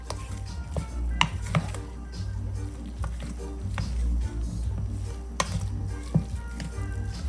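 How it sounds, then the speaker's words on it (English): Curry powder sizzling in hot oil in a pot while curry shrimp is being cooked, a steady close frying hiss with scattered sharp ticks and clatters from utensils, and no talking. "I'm gonna go ahead and burn my oil in my curry"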